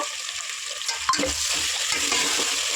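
Two tomatoes fry in a hot pan of bagara rice base, giving a steady close sizzle with a stirring scrape and clatter partway through, and no talking.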